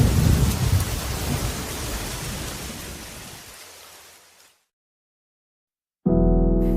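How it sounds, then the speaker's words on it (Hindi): Heavy rain pours steadily with rumbling thunder in a broad, loud wash, fading out to silence for about a second before a loud burst of storm noise returns abruptly. "तभी अचानक तेज बारिश शुरू हो गई"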